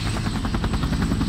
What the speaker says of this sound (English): UH-1 is also the world's first dedicated attack helicopter.